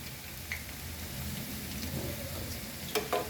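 Vegetable pakoras of onion and potato strips frying in oil, a continuous close sizzle and bubbling with a few sharp pops and spatters near the end.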